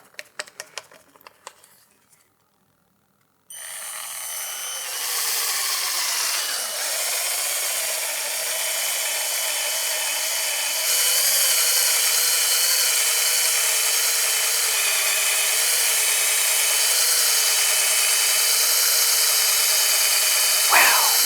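After a few handling knocks, a power polisher with a large pad buffs rubbing compound onto the plastic of a Yamaha Blaster 200 ATV, whirring steadily, loud and close, without pause.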